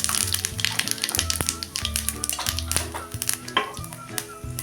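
Asafoetida dropped into hot oil with crackling mustard seeds and cumin for a tempering, giving a steady dense sizzle and popping, close and loud throughout, with music playing underneath.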